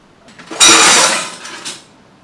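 A metal cooking pan is pulled out and handled in a home kitchen, giving a close clatter of rattling cookware and clinks that swells, then fades with a final small knock.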